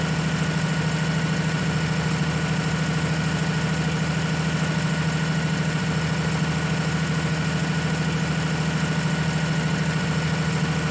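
The tractor engine in Farming Simulator 19 drones at a steady, unbroken pitch, close and constant with a low rumble and no voices.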